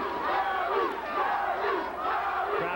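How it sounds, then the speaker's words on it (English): A boxing arena crowd chants Gary in support of the fighter Hinton, with loud, sustained, rhythmic voices filling the hall throughout. "Crowd chanting Gary, Gary for Hinton."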